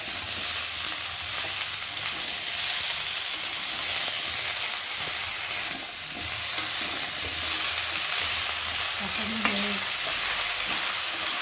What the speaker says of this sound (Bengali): এখন আমি পুঁই শাকটা ঢেলে দেবো। ভালো করে পুঁই শাকের সাথে মশলাটাকে ভালো করে কষিয়ে নেব।